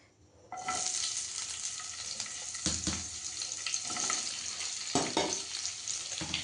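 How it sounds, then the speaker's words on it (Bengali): Vegetables go into hot oil in a heated frying pan, and a loud, steady close-up sizzle erupts after a brief quiet start, broken by occasional clattering stirs. "এই যে তেল দিয়ে দিলাম, ফ্রাইং প্যানটা এমনি খুব সুন্দর গরম আছে। সবজিগুলোকে দিয়ে দেবো আমি।"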